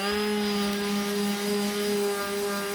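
A mouse sander works over a vacuum-formed plastic canopy, giving a steady, close, high whirring drone with a strong constant pitch and faint scratchy texture, running alone without pause.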